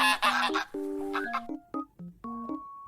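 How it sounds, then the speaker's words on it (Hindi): A goose gives a burst of harsh honks followed by a string of shorter, fading nasal calls, close and moderately loud. "Goose, हंस।"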